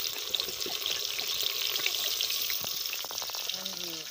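Onions hiss and crackle in hot ghee for a mixed vegetable pulao, a steady close sizzle throughout with a few brief tonal sounds and faint voices near the end.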